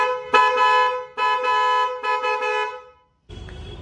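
A double heavy horn fitted with a 4-pin relay on a bike or car sounds three loud, sustained blasts in quick succession, followed by a short low rumble.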